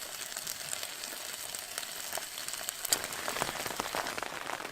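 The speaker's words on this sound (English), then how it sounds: "Well, it started to rain again" Steady patter of rain on a surface, with scattered drops ticking nearby; no voices, a soft continuous hiss throughout.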